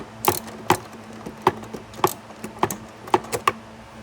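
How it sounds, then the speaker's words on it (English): A ratchet works loose three 10mm bolts on a Toyota RAV4's air box, giving a string of sharp, close clicks in uneven bursts against a quiet background. "we'll just loosen up these 3 10mm bolts"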